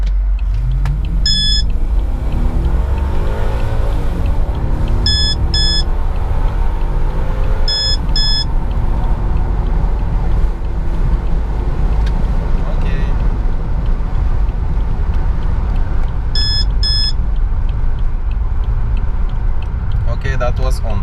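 A 2003 BMW 745i E65 accelerates hard in sport mode with a loud, steady engine and road roar that climbs in pitch. Bursts of short electronic beeps sound at intervals.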